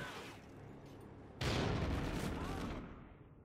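Video game gunfire in a Call of Duty–style search and destroy match erupts suddenly into a loud, dense burst of shots after a quieter stretch, with speech mixed in.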